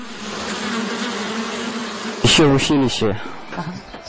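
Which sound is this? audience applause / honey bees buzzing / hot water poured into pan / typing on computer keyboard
honey bees buzzing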